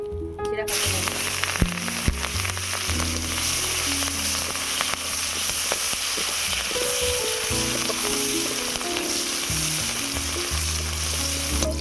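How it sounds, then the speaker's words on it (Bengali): Steady, dense sizzling of chopped onion frying in hot oil continues throughout, with occasional stirring clinks and scrapes over the hiss. "এবারে তরকারিটা বানিয়ে নেব তার জন্য দিয়ে দিচ্ছি পেঁয়াজ কুচি"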